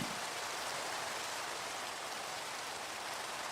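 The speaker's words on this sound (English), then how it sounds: "but it's still raining" Steady rain falls in a video game world at dawn, a dense, even hiss of drops with no pauses, moderately quiet and uninterrupted from start to finish.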